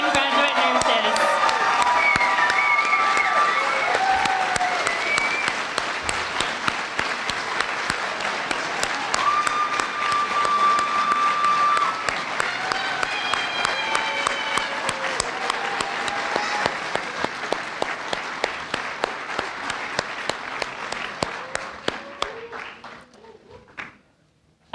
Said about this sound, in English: Let's have a big round of applause for our newly pinned graduate nurses.